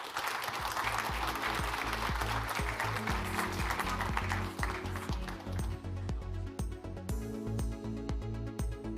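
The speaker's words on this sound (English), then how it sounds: "A huge round of applause." An audience at a global summit panel on India and Germany applauds with fairly faint clapping over steady background music, the clapping thinning out toward the end.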